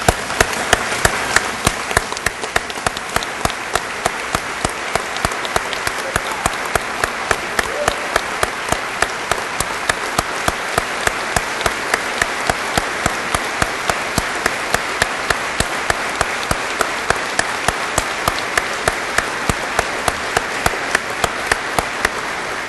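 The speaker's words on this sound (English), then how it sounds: "we need to stand and applaud Ned Pettis for his years of service." A standing audience at the Columbus Fire Academy graduation gives dense, sustained applause that stays steady and loud from start to finish.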